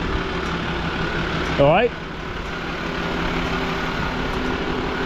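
A Mercedes Unimog engine idles steadily on a farm in the Fens, a low continuous hum throughout, with a brief voice cutting in over it early on.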